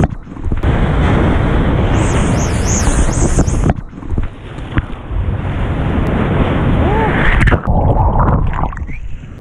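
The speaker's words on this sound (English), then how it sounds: "I think there's a few waves coming right now." Ocean surf crashing and rushing around a surfer in the water, loud and continuous with heavy wind buffeting the microphone and brief bubbling splashes.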